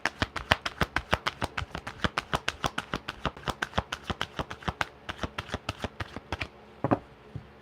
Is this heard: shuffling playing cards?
yes